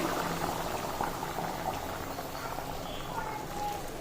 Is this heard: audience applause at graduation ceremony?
no